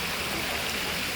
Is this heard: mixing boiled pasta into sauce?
no